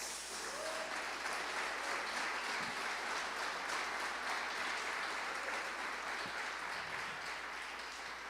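A church congregation applauds for Jesus during a sermon, giving a steady, even wash of many hands clapping at moderate distance, continuous throughout with no speech over it.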